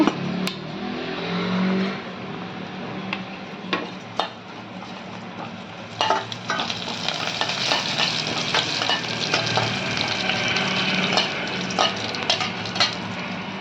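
Cumin seeds crackle and sizzle in hot oil in a kadai, a steady frying hiss with scattered sharp pops and occasional clatters of utensils, close and fairly loud throughout.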